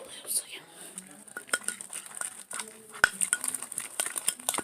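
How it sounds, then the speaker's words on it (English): Slime ingredients stirred in a bowl, with a utensil clinking and scraping in quick, uneven strokes close up, steady soft clatter throughout and faint whispering underneath. "I'm mixing it."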